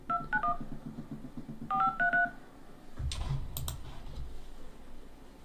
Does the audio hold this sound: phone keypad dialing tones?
yes